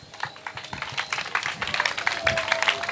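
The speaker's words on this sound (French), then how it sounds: "On applaudit pour Grâce." A church holiday-program audience claps for a visiting guest: scattered, uneven hand claps building gradually over a few seconds at moderate level, with faint background voices mixed in.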